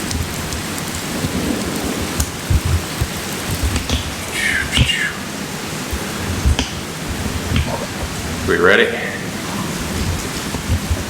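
Heavy rain pours steadily on a campsite during a thunderstorm, with rumbling thunder and sharp drops pattering close by, while people talk briefly over the downpour.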